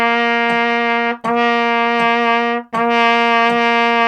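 A single trumpet plays sustained half notes beginning on low C at a moderate tempo of 80, three long, steady tones with brief breaths between them, close and clear with no talking.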